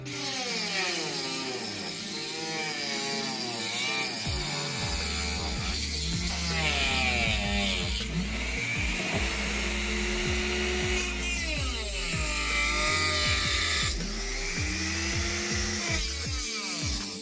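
A small power tool whines and grinds while cutting interior trim on a 1997 Nissan Navara, its pitch rising and falling in repeated bursts, loud and close.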